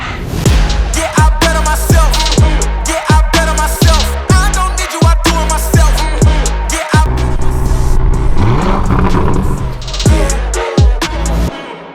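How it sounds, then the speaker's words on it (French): A Lamborghini Urus in Corsa mode inside GTA IV fires up and revs hard, loud repeated engine surges rising and dropping in quick bursts with gear-change gaps, near and alone. "on démarre ce magnifique Lamborghini Urus mode Corsa"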